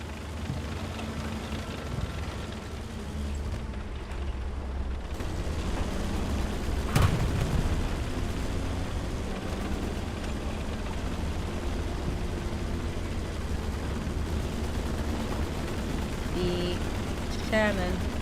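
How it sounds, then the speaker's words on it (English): Rumbling booms and low explosive thuds from a tank battle in the Hell Let Loose multiplayer war game, a continuous heavy roar with one sharp blast near the middle and a commentator talking over the din. "we're about to see our first tank battle"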